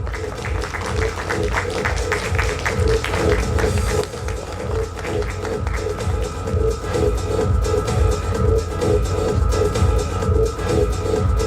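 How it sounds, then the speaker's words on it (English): Sustained applause from a panel-discussion audience at a business event, honouring the moderator; dense, steady clapping fills the room at close range throughout with a slight dip midway. "A big round of applause for Jagruti Mehta ma'am."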